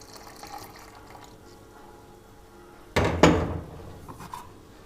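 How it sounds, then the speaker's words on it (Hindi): Milk being poured into a blender jar over chopped bananas, almonds and dates for a milkshake, a short close splashing burst of liquid after quiet kitchen background. "अब ये जो बकाया दूध है इसमें डाल देंगे।"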